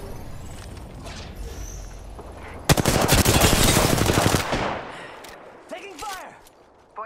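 Automatic weapon fire in the Apex Legends video game bursts out in a loud, rapid rattling stream for about two seconds, fading into game sounds and brief voice chatter.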